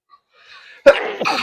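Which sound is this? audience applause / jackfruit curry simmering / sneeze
sneeze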